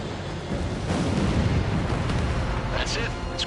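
In the jet combat game Ace Combat 7, an enemy bomber hit by a missile explodes in a loud, sustained, rumbling blast that rolls on for several seconds, with faint sharp pops near the end.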